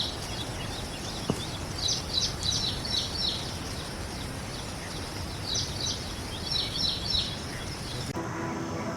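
Birds chirp and twitter in scattered bursts along a rural path near a farm field outside a village, faint to moderate over a soft steady background hiss.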